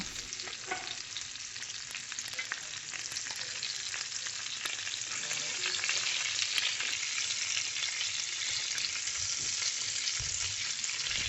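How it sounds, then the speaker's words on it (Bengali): Fish pieces fry in hot oil for eggplant bhaji, a steady, dense crackling sizzle that holds evenly throughout with no voices. "মাছ ভাজার জন্য পরিমাণ মতো তেল দিয়ে গরম হলে মাছগুলো একে একে ছেড়ে দেব"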